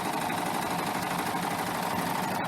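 A serger sewing machine runs steadily as it stitches a seam on quilting fabric, giving a continuous close, loud mechanical whir with no pauses.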